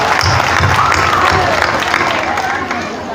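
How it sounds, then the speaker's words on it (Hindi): Loud, close audience clapping at a Hindi comic poetry recital: a dense, continuous roll of many hands with some crowd murmur, tapering slightly toward the end. "इसलिए आप ताली बजा दीजिए"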